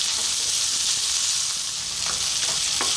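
Garlic and onion fry in a pan with a steady, dense sizzle, loud and close, with a few faint clicks of stirring scattered through.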